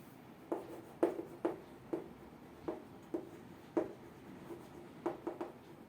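Chalk or marker strokes on a board during a classroom science lesson: about a dozen short scratchy taps and drags at an irregular writing rhythm, close and moderately quiet, with no talking over them.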